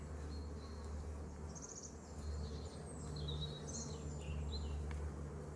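Honeybees hum in a soft, steady drone around an open hive during a spring colony inspection, faint and close, with occasional higher chirps from birds in the background.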